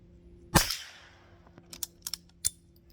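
A vintage .22LR round fires from a lever-action rifle with one loud, sharp crack whose report rings briefly, followed by several fainter clicks and clacks of the lever action working the spent case out.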